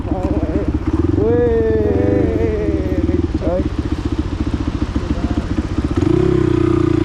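A motorcycle engine chugs with a rapid, steady pulse while riding on a mountain trail to Manang, loud and close throughout, with someone talking over it.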